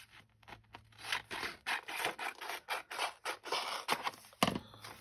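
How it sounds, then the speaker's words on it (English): Scissors cut a picture out of paper in a quick series of close, soft snips and rustling paper, steady and rhythmic with no talking. "Just going to cut the picture out"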